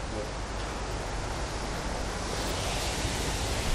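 Strong outdoor wind roars steadily against the microphone as a dense, unbroken rush that covers everything else.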